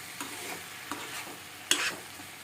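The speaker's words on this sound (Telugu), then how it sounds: "ఇప్పుడు వంకాయ టమాటా రెండు కలిపి ఒక 2 నిమిషాల పాటు వేగుతాయి" Eggplant and tomato pieces fry together in a pan with a quiet, soft sizzle, broken by a few scraping stirs, one sharper and louder than the rest.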